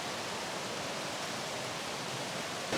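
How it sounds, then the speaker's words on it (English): Water of a stream flows steadily in the quiet countryside at Warburton, Victoria, Australia, a continuous broadband rush with no pauses and no voices. "Hopefully you guys can hear that water."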